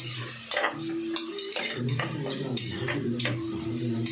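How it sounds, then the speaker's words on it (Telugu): Onions frying in a pan with turmeric and salt, with a utensil scraping and clinking against the pan in repeated strokes over a steady low frying hiss, close and fairly loud. "పసుపు కొంచెం ఉప్పు వేసుకున్నాను ఆనియన్స్ బాగా ఫ్రై అవుతాయి"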